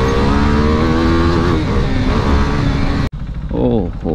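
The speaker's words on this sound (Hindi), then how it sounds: "First ride on my KTM RC 390।" KTM RC 390 motorcycle on its first ride: the engine drones loud and close with shifting revs, cuts off abruptly near the end, then a voice speaks briefly.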